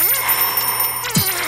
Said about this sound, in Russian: можно на будильник нажать.